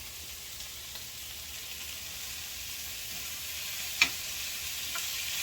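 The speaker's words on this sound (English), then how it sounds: "So the onions and peppers are getting a nice caramelization on them." Onions and peppers caramelize in a pan with a soft, steady sizzle and hiss, quiet and constant, broken by one sharp utensil tick near the end and a couple of fainter clicks.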